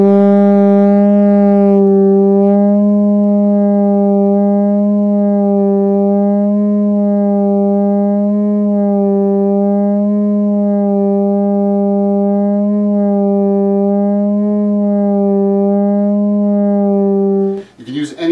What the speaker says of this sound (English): a sort of pulsing motion in the middle of a note that takes you slightly on and off the pitch